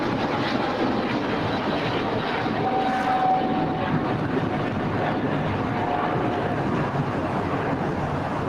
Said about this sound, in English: I'm going to head back real quickly to get the Korean Air landing.